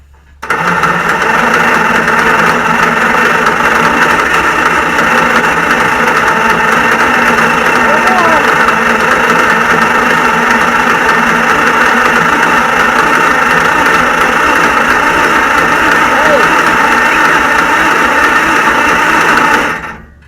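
A small engine is cranked over and over, trying to fire, a steady loud mechanical drone lasting nearly twenty seconds with faint stutters, and people talk over it.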